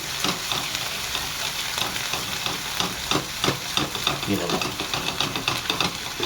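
Fenugreek leaves hit a hot pan with garlic-chilli paste for a Maharashtrian chicken dish, giving a steady broadband sizzle with scattered crackles and light stirring scrapes throughout.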